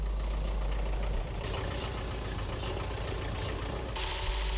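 A tractor engine idles steadily while powering a farm milking unit parked outside an outhouse, in 1977 County Clare, Ireland; a low, continuous rumble, moderately close, with no talk over it.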